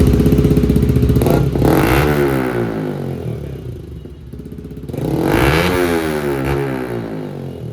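Yamaha R15 V4 motorcycle with a Red Bull Akrapovic-style full system exhaust and bend pipe, revved hard up and down twice at close range, loud and raspy.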